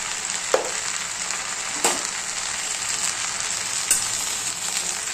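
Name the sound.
stirring fenugreek greens frying in a pan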